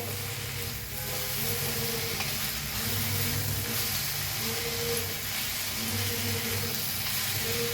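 Crushed green chilli and onion thecha chutney is stirred in a hot pan, giving a steady, fairly loud sizzle and hiss with recurring soft scraping strokes.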